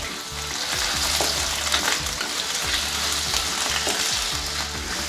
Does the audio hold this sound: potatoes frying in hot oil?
yes